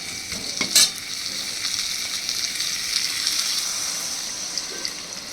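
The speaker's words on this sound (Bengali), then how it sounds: "এবার আমি এখানে দিয়ে দিচ্ছি জল।" Water hits hot oil and spices in a pan for a light rohu fish curry, giving a loud burst of crackling and splashing that settles into an even, sustained sizzle and bubbling.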